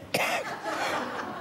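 A single sharp cough close by, followed by a short breathy, throaty trailing sound.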